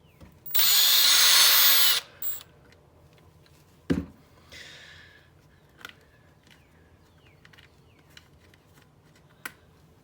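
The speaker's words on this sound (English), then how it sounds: "I used the drill with the old 2mm bit in it to tear everything apart." A power drill with a 2mm bit whirs at high speed for about a second and a half while taking apart an Arrma Typhon 3s RC car shock, followed by a sharp clunk and a few scattered light clicks and taps.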